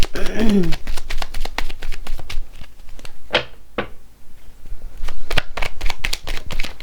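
Playing cards being shuffled and dealt out, a dense run of riffling flutters, crisp snaps and soft card slaps close by, continuous throughout.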